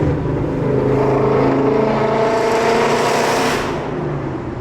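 A supercharged Ford Mustang drives along with a steady, loud engine drone from inside or close by, the revs rising and holding before easing off near the end.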